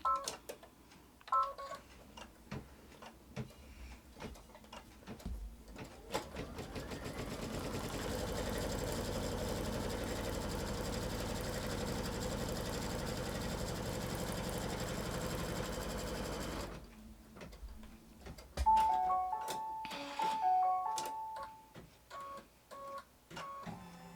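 An embroidery sewing machine stitches fabric with a steady, mechanical whir for about ten seconds, close up, framed by quieter ticks, clicks and beeping tones before and after.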